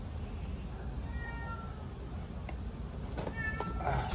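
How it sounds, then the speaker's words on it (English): A house cat meows to be let out, several short faint cries spread across the clip over a steady low background hum, with no talking. "Cat wanted out."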